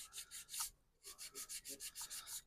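A 1000 grit pad sands paint in quick rhythmic strokes, about a dozen soft close scratches in a steady back-and-forth pattern with one brief pause, and no talking.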